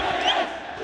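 A large crowd cheers and roars at a Counter-Strike 2 esports tournament in Sydney, a dense burst of massed voices heard briefly and loud.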